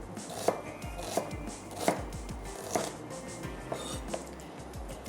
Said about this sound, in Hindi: तो जैसे हम ऑमलेट के लिए प्याज काटते हैं बिल्कुल वैसे ही हम एक अदद दरमियाने साइज़ की प्याज को कट कर लेते हैं।